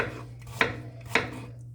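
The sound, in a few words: chopping apple on cutting board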